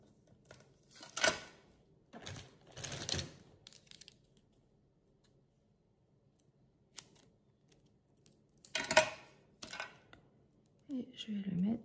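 Scissors cutting a paper card in half, giving several short, crisp snips in separate bursts with quiet gaps between them, close by, with a faint voice near the end.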